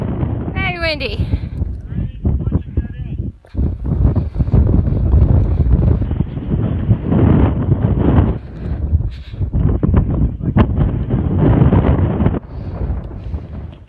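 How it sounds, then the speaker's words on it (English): Heavy, buffeting wind roars across the microphone almost nonstop on a mountain on the Appalachian Trail near Mahoosuc Notch, loud and gusty, with a brief lull near the start. "Very windy."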